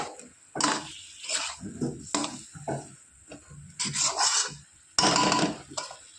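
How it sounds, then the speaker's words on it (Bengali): Spices for a fish curry being stirred and scraped in a pan, with a run of irregular rasping strokes and short scrapes, close and fairly quiet. "সমস্ত মশলা দিয়ে ভালো করে একটু কষিয়ে নেব।"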